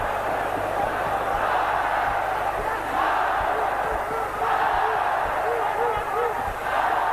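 A crowd at a WBC flyweight title boxing fight roars steadily throughout, with surges of cheering as punches land and a commentator talking over the noise.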